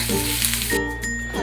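Spices roast and sizzle briefly in a hot pan for a Konkan-style brinjal bharit masala, a steady close frying hiss with a faint clink of utensil on metal.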